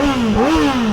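A 2025 Kawasaki ZX-4RR sport bike engine revs up close, its high, smooth tone climbing and dipping in a single quick blip with no talk over it.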